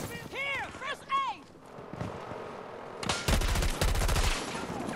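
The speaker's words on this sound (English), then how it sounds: "Why did my gun pause firing there?" Bursts of automatic gunfire in the video game Battlefield 2042, rapid close shots in the second half after a quieter stretch, with a voice talking over the first part.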